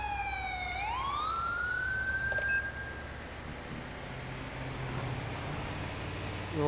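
Ambulance and police sirens wail in the GTA 5 video game, several overlapping electronic tones sweeping up and holding steady, loud and continuous over a low traffic rumble.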